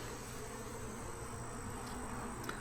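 Honeybees buzz at a hive in a dense, even drone that fills the whole stretch, close and steady, with no talk.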